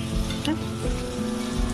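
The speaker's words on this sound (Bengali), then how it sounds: "এর মধ্যে যাচ্ছে এবার আদা আর রসুন, এটাকে আবার ভাজা ভাজা করে নিতে হবে" Ginger and garlic fry in a pan with a steady, close sizzle running through the whole short stretch, and faint kitchen movement sits beneath it.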